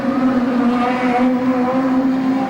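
National hot rod race cars circling the Arena Essex oval, a steady loud engine drone holding one pitch throughout, close and continuous with no voices.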